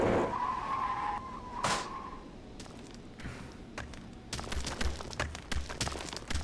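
An aircraft in the building game Brick Rigs touches down after clipping a wing and a wheel, with a brief squeal, then a run of scraping thumps and rattles as it skids to a stop.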